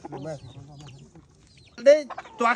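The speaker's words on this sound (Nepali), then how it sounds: "भाले" A rooster clucks in short bursts close by during a family ritual worship, with voices talking before and between the calls.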